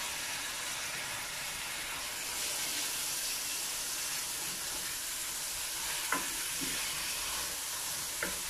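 A whole chopped tomato drops into a pan of mince curry, setting off a steady close sizzle of frying with a few faint stirring clicks and taps over the hiss.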